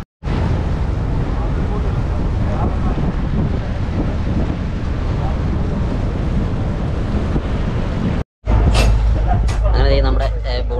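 Wind buffets the microphone aboard a ferry crossing Vembanad Lake from Kumarakom toward Muhamma, a loud continuous roar with water and engine rumble underneath, then a brief cut followed by a voice speaking close by.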